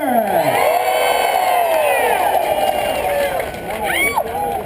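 Crowd at pig races cheering and yelling together, a dense roar of many voices with rising whoops, loud and sustained throughout with individual shouts standing out.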